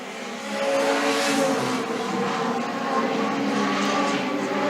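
Legend race cars roar around a speedway track, a dense, continuous engine drone that swells early and holds loud and steady as the pack passes, with no voices.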